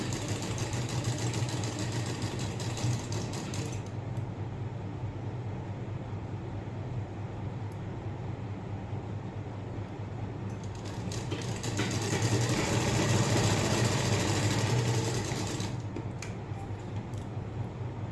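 An electric sewing machine runs a continuous whirring stitch along a blouse seam, steady and close, growing a little louder and busier toward the end.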